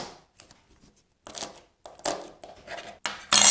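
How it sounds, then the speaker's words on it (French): A spoon taps and cracks a raw egg's shell in a series of short, close, sharp knocks and crunches, growing louder toward the end. "Je brise la coquille, par exemple avec une cuillère."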